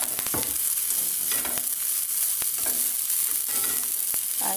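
Rice with dilis (small dried anchovies) and eggs being stir-fried in a hot pan, a steady bright sizzle with repeated scraping, stirring strokes of the spatula, close and continuous throughout.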